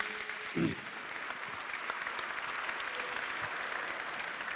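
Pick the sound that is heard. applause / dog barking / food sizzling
applause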